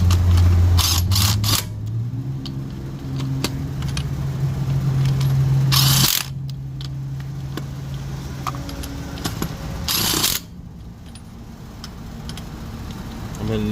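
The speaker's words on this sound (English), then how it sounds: "here I am, about to tighten up the bolts" Lug bolts on the front passenger wheel of a 2008 Toyota Avalon Limited are tightened with a tool, giving a few short metallic bursts up close over a steady low hum.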